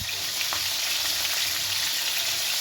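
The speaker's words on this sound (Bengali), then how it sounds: "মাছটা ভাজা হোক" Prawns frying in a pan give a continuous bright sizzle close up, with a brief stirring clink partway through and no voices.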